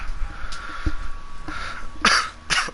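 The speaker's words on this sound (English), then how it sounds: "my cough is really bad today" A person coughs several times during a Friday the 13th game livestream, with short hoarse bursts spaced apart and one stronger double burst near the end, close to the mic over faint background hum.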